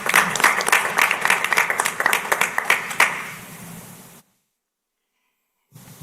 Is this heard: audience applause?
yes